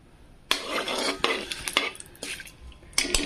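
Onion for veg pulao biryani is sautéed over high heat, with a spoon scraping and clanking against the pan in several quick bursts over a soft sizzle, close and clear.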